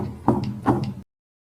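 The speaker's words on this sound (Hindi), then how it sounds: "दरवाजे पर थक थक थक की आवाज शुरू हो गई।" A wooden door is knocked in two quick, close pairs of dull thuds, fairly loud and near, before cutting to silence.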